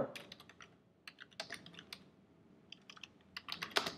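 Rapid bursts of typing on a computer keyboard, close and fairly quiet, with irregular clusters of key clicks separated by short pauses.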